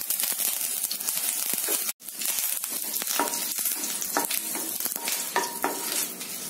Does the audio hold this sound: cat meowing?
no